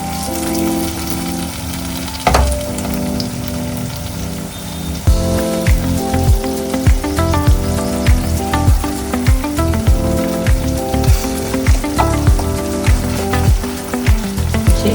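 Masala and tomatoes sizzle in a pan for a mutton curry, a loud crackling fry with bursts of popping and stirring scrapes, steady for the whole stretch over a soft rhythmic backing.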